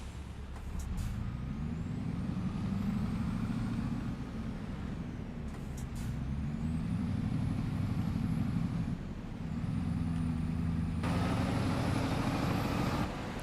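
A truck in Farming Simulator 25 slows under a steady engine drone, with several sharp air-brake hisses at intervals.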